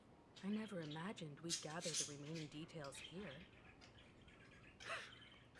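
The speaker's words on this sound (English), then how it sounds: "there's a bird there" A bird in the video game Honkai Star Rail gives a short squawk near the end, after a stretch of character dialogue and quiet background ambience.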